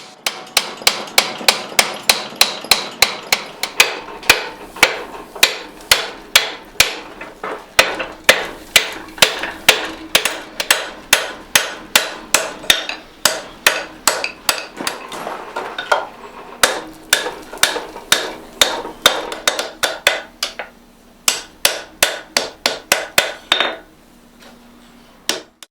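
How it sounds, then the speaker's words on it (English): A blacksmith hammers a holdfast joint at the forge, with dozens of sharp, ringing metallic blows in quick regular bursts and brief pauses between runs, loud and close with no talk. "You have to make sure that you hammer both sides of this joint very evenly"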